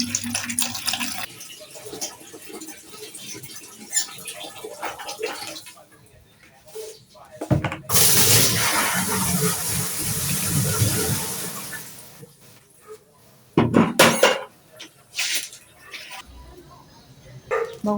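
A water tap gushes for hand-washing laundry, a loud rushing burst in the middle that stops abruptly, with a person talking and a dog barking around it.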